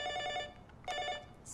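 A telephone bell rings in a hotel, two clear bursts of ringing separated by a short pause, close and fairly loud.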